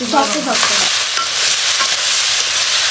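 Sliced pointed gourd fries in a hot wok with a loud, continuous hiss and crackle, a brief scrape of stirring at the start, close and steady throughout.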